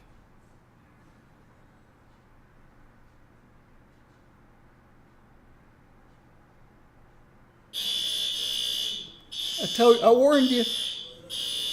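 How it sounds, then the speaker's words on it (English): A loud fire alarm blares in a home during a late-night World of Warcraft session, a steady piercing tone starting abruptly after a quiet stretch, with someone speaking over it. "In a minute, you'll hear the fire alarm go off."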